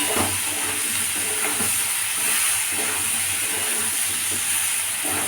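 Pumpkin curry with coriander powder and vegetable spice mix sautéing in a pan over a gas flame, a steady loud hiss and sizzle with faint low hum running throughout.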